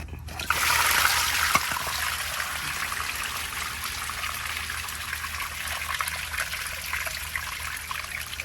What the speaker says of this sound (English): Get some of the water out.